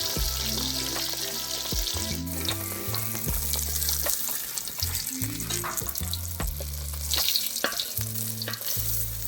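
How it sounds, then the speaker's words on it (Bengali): Bhola fish fries in hot oil at an outdoor picnic cookout, a dense crackling sizzle running steadily beneath loud music. "লাল লাল করে ভেজে নেওয়া হবে, মাছের ঝাল হবে।"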